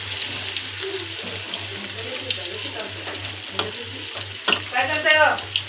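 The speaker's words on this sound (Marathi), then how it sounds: "बघू शकता मी इथे करते मच्छी फ्राय" Large, thick-cut pieces of fish frying in a pan, a steady close sizzle with a faint hum underneath, a few stirring clatters and louder bubbling toward the end.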